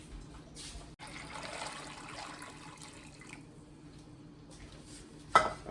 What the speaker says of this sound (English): now pour water just to cover them.